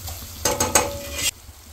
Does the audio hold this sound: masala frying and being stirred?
yes